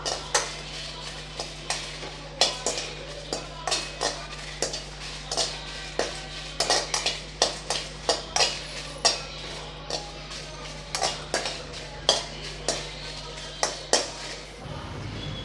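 Dried red chillies roasting in a pan for tomato pickle, stirred with a spoon that gives a steady run of sharp metallic scrapes and clinks against the pan over a low background hum.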